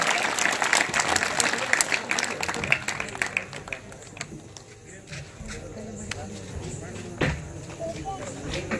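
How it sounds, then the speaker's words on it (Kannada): Loud crowd applause fills a stage event at a Navaratri religious discourse gathering, dense clapping strongest at first then thinning and fading, with a voice talking over it. "ತಮ್ಮ ಜೋರಾದ ಚಪ್ಪಾಳಿಯೊಂದಿಗೆ ಪರಮ ಪೂಜ್ಯರನ್ನ"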